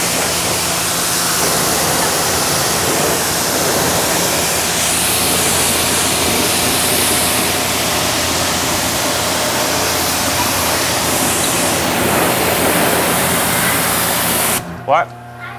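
Steady hiss of water spraying from an 18-foot hose onto a 2013 Ford Raptor in a dedicated wash bay, continuous and close for most of the clip before cutting off near the end as a voice speaks.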